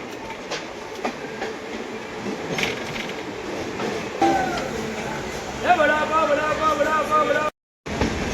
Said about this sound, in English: And now we are departing from Panvel.